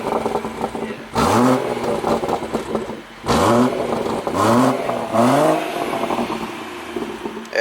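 A BMW 140i starts up and revs nearby, several loud rising blips of the engine standing out over a steady idle, with no talk over it.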